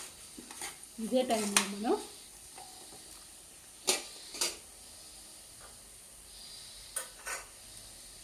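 Onions for a chicken curry fry in a pan with a soft, low sizzle, broken by a few sharp scrapes and clinks of a spoon stirring, while someone speaks over it.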